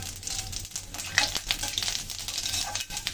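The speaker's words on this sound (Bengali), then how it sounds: "তো তখন ফোড়নে দিয়ে দিচ্ছি একটা শুকনো লঙ্কা আর সামান্য দিয়ে দিচ্ছি পাঁচ ফোড়ন" A dried red chili and a pinch of panch phoron tempering in hot oil over a lowered flame for a vegetable dish: a steady crackling sizzle with quick sputters and light spoon taps, close and without talk.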